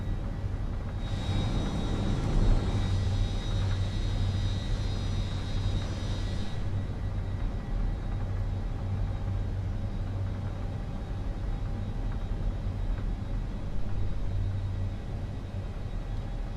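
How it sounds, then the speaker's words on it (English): The jet engines of an L1011 TriStar in a flight simulator roar steadily through a night takeoff from Atlanta, a loud continuous rumble with a brief high whine early on and no talk. "Atlanta traffic T-way 357, departing runway 9 or left straight out."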